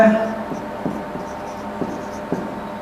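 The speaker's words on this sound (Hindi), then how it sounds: "अब उसके बाद अगर मैं एक शब्द और लिखता हूं" Chalk or marker strokes on a classroom board as a word is written during a Hindi grammar lesson, a few short scratchy bursts spaced unevenly, close by over a low room hum.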